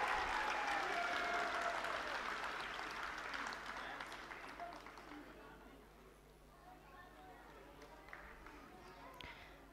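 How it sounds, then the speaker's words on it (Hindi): A school audience of parents applauds young children at an evening annual function, a broad wash of clapping that slowly fades over about ten seconds, with crowd chatter underneath. "तो एक बार जोरदार तालियां इन नन्हे मुन्ने बच्चों के लिए"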